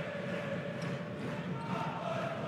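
Steady crowd noise filling a basketball arena during a Champions League game, a continuous roar of many voices with scattered shouts, heard at a distance and fairly low in level.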